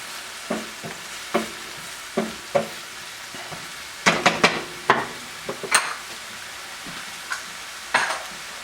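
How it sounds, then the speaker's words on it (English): Garlic, tarragon and mushrooms sizzling in a pan while a utensil stirs them, with repeated scraping strokes and clinks against the pan over a steady frying hiss, close and moderately loud, with no talking. "Then we're going to throw the garlic in. We're just going to stir that up till it's fragrant."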